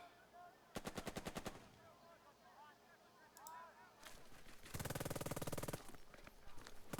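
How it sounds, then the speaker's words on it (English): Enemy artillery and machine-gun fire in the WWI strategy game Burden of Command: a rapid burst of shots, a short pause, then a longer, louder barrage of rattling fire over battlefield ambience. "Enemy artillery."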